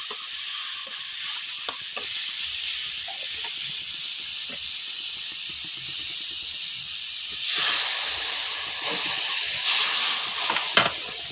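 Masala sizzles loudly and steadily in a hot pan after a splash of water is added while cooking a fish curry, a continuous close hiss that swells briefly, with occasional stirring scrapes.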